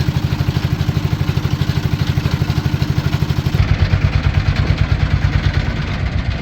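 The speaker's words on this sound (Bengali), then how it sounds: "আমরা ছোট একটি ট্রলার নিয়ে চলছি" A small fishing trawler's engine chugs loudly and close in a fast, even thumping rhythm that never lets up, with a rattling mechanical clatter layered over it and no talking.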